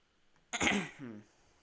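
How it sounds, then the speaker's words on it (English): A single rough, throaty cough from a man, sharp at the onset and trailing off into a brief voiced rasp, close and fairly loud against a quiet background. "It sounded like a goat when I just coughed."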